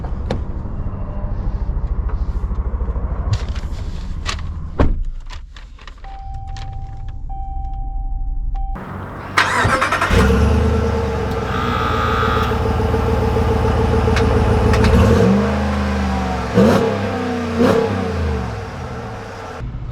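A 2020 Ram 1500 Limited pickup truck starts with a short whir and catch, then idles steadily before the engine revs and pulls away, building a louder driving rumble, with no talk.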